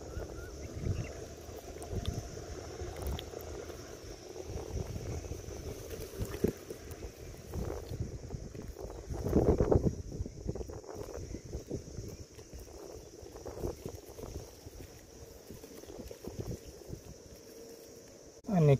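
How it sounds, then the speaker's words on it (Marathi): Strong wind blows outdoors at a riverside or lakeside fishing spot, buffeting the microphone with low, uneven rumbles and gusts, loudest around the middle, with faint background sounds. "वारा सुद्धा भरपूर सुटलेलं आहे"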